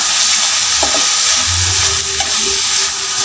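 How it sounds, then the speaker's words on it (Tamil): Mutton blood fry with grated coconut being stirred in a pan, giving a steady loud sizzle with a few scraping strokes of the spoon and no voices. "ஒரு ஒரு நிமிஷம் மட்டும் கிளறிட்டு அடுப்பு ஆஃப் பண்ணிடலாம்"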